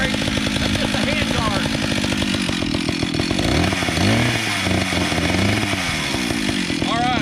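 An antique Stihl 031 chainsaw with a freshly cleaned carburetor runs loud and close, its engine buzzing steadily and then dipping and revving as the throttle changes.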